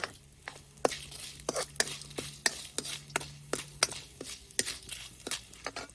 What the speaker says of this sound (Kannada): ಸ್ವಲ್ಪ ಮೆಣಸನ್ನು ಕೂಡ ತುಂಡು ಮಾಡಿ ಹಾಕುವ